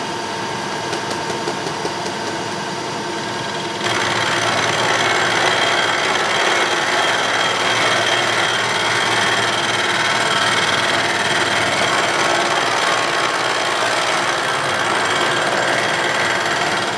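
A power tool fitted with an inch-and-a-half tip starts cutting into painted cast iron, a loud steady grinding roar that jumps up after a quieter idle and continues unbroken.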